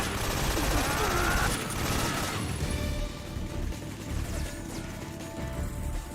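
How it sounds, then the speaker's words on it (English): Rapid, dense gunfire rattles loudly at first in Metal Gear Solid 3: Snake Eater, then eases into scattered shots and mechanical clatter over a noisy background. "I hear gunfire, I just don't see it."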